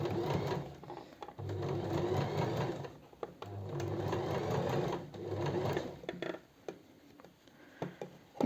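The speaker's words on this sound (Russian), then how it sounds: "И теперь нужно эту обтачку отвернуть в сторону, вот сюда, и шов притачивания настрочить" Sewing machine stitching a facing seam close to the edge on a cocktail dress, running in several bursts of rapid, even mechanical chatter separated by short pauses, close and clear with no speech.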